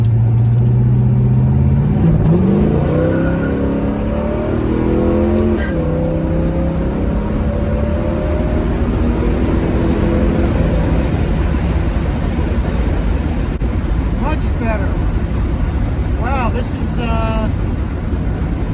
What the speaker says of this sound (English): we're going to run it through the gears for fun. So let's get that Quadrajet to open.